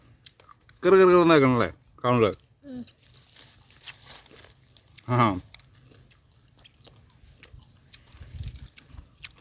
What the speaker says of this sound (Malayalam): ആ അവലൊക്കെ ഇട്ടുണ്ട് കടിക്കുമ്പോ കറുമുറ കറുമുറ